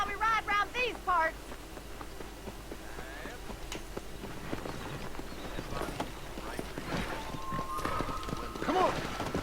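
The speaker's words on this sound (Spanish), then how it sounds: "Hemos hecho una carrera de caballos." Horse hooves galloping during a race in the video game Red Dead Redemption, a steady rapid clatter running under background game sound, with voices talking over it.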